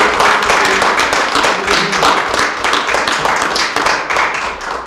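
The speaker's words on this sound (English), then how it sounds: "deserves a round of applause" Audience applause at an Essex County Freeholders ceremony honoring a boxer, a loud, close, sustained burst of many hands clapping across the whole stretch, tapering slightly at the end.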